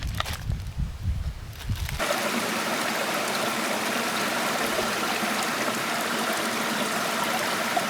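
A stream at a trail water crossing on a backpacking route in the Roaring Plains of West Virginia rushes steadily and close by, a constant broad wash of flowing water after a brief rumble of movement at the start.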